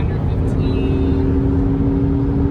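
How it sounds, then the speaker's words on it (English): A Ford Mustang EcoBoost engine held at the rev limiter, a loud, steady interior drone with a sustained engine tone throughout. "We hit the rev limiter."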